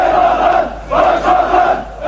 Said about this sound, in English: They chant Başbakan, Prime Minister, in a rousing cheer for the winning candidate Necmettin Erbakan